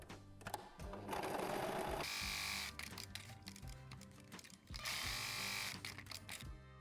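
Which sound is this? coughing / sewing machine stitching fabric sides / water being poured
sewing machine stitching fabric sides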